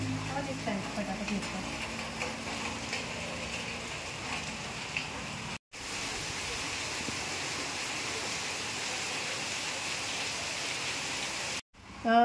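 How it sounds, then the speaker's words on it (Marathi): Continuous monsoon rain pours down outside a rural Maharashtra home, a dense steady wash of hiss lasting throughout, briefly cut twice, with faint talk early on. "बाहेर मस्त असा पाऊस पडतोय"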